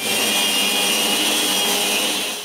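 A drum sander grinds across a walnut glue-up for a clock frame, a steady loud whirring hiss with a high tonal whine, continuous and close with no voices.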